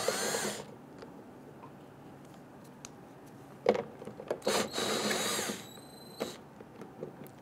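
A power tool loosens the 10mm bolts at a 1994-2004 Ford Mustang fuel tank in short, close whirring bursts, one brief at the start and a longer run midway, with pauses and small metallic clicks between, and no talking.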